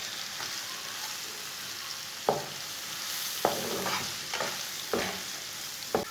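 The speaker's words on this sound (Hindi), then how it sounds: "अब इसे 1 मिनट तक भून लेंगे।" Okra frying with salt, red chilli, turmeric and whole cumin in a pan over a steady sizzle, punctuated by about five distinct spatula knocks and scrapes at uneven intervals, close and with no talking.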